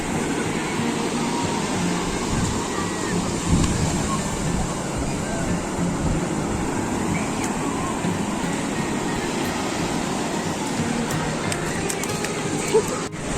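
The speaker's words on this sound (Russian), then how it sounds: "Волны аж сюда вот это все заливает." Sea waves wash up the shore on a beach in a steady, continuous roar, with voices faintly heard now and then in the background.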